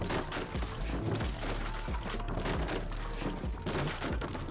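Building pieces being destroyed in the video game Rust, a run of repeated dull crashes and thuds breaking apart in quick succession, dense and fairly steady, with no talk.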